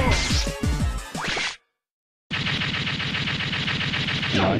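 Fire slash weapon attacks in Mega Man 8 come as loud, harsh, whooshing bursts with dense gritty crackle, cut by a short silence before a second sustained blast.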